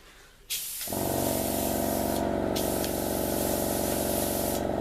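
An airbrush compressor sprays dark grey paint for a model ship, starting with a click and then a loud, continuous hiss with a steady motor hum underneath, the spray briefly cutting out and resuming.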